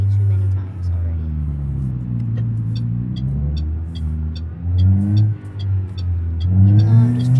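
A car engine in BeamNG.drive growls and revs in waves, pitch climbing and dropping through gear changes, loud and close with a constant rumble underneath.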